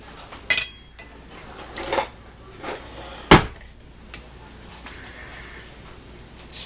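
A knife cuts into a hot homemade quiche in its dish, making a few sharp, scattered clinks and taps of metal on the pan between quiet moments.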